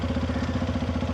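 A motorcycle engine runs steadily at a low, even idle-like throb on a road trip in India, close and continuous with a regular pulsing rhythm and no talking.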